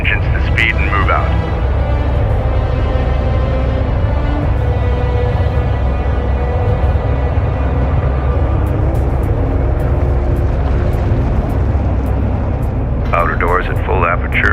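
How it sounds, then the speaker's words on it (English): Spaceship carrier engines in Homeworld: Deserts of Kharak spool up into a loud, steady droning rumble with a humming tonal layer, and voices speak briefly at the start and end. "Bring engines to speed and move out."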